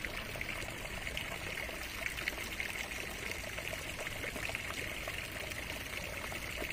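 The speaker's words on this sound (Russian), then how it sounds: "Это фонтан." Water splashing and trickling in a fountain in central Florence, a continuous even hiss of falling water at moderate distance with no talk over it.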